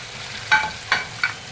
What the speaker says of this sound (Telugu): ఈ టమాటా కూడా సన్న ఫ్లేమ్లో చక్కగా బాగా మసాలా పచ్చి వాసన అంతా పొయ్యేంత వరకు బాగా వేగనిద్దామండి